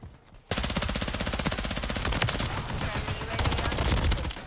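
Rapid gunfire in Call of Duty MW3 erupts after a brief quiet moment, a dense loud string of repeated shots continuing without pause for several seconds.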